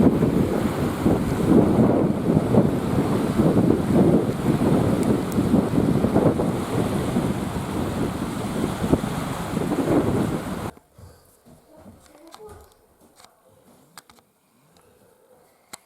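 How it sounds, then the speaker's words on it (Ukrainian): Strong wind buffets the microphone on a lake shore with a steady low roar and surf-like rumble, then cuts out abruptly to near quiet with faint rustling. "коли з неї виходиш, вітер так вдуває неприємно"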